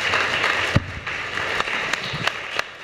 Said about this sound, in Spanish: les invito por favor a que lo recibamos con un aplauso